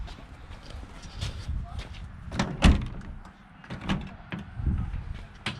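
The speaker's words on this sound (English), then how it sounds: "So here's the side doors." Side doors of a 1962 Ford Falcon Club Wagon being worked, giving several close knocks and latch clunks, one sharper thud near the middle, with low handling noise between.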